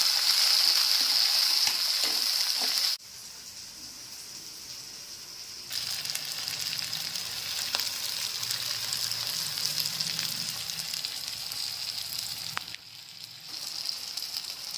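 Tomatoes fry in a pan with browned onions for a chana dal chicken curry, giving a steady close sizzle that drops briefly twice when stirred or disturbed and then resumes, with no talking.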